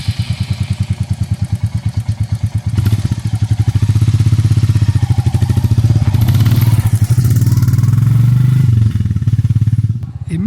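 Royal Enfield Meteor 350 motorcycle carrying a rider and passenger, its single-cylinder engine thumping loud and close with a steady pulsing beat, revs rising and settling over several seconds of riding.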